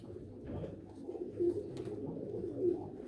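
Jacobin pigeons coo softly at an indoor club show, low throaty rolling calls repeating under a murmuring room background, moderately close and fairly quiet.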